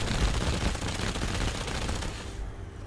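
Heavy gunfire from a big gun in Fallout 4, fired at a Deathclaw: a dense, continuous burst of loud shots roaring for nearly three seconds before cutting off abruptly.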